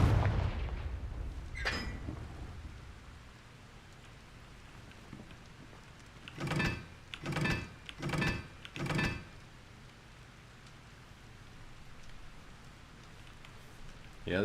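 Four evenly spaced blasts from the Confringo fire spell in Hogwarts Legacy thud in quick succession over a hushed background, with an earlier sharp crack and muffled talk at the start.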